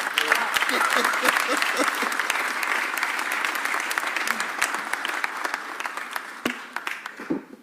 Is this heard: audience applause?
yes